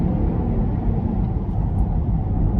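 A 2022 Lexus UX 250h compact luxury hybrid SUV accelerates, heard from inside as a steady low engine and road rumble that holds constant, with little whine.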